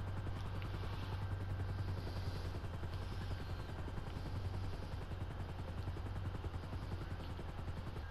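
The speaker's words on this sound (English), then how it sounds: "the helicopter looks better in the sky" Helicopter flying overhead at a community convoy event, a steady loud rotor drone with rhythmic chopping pulses continuing throughout, no voices.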